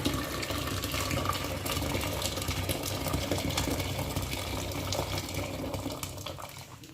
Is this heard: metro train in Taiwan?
no